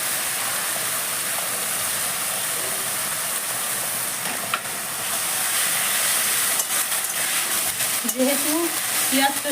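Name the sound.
onion garlic ginger chili paste frying in pan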